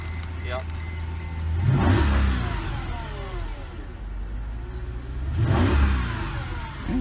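A Mercedes ML55 SUV engine runs close by, revving up twice in strong surges that fall back to a steady idle, with voices talking over it.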